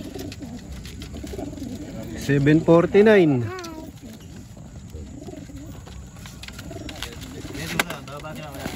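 Racing pigeons are released together from a truck at a training toss, with close pigeon coos and bird calls standing out. People talk over and around the birds.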